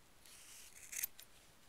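Scissors snipping off extra yarn: a quiet, close cut with a brief crisp snap near the middle, then a smaller click, against faint background hiss.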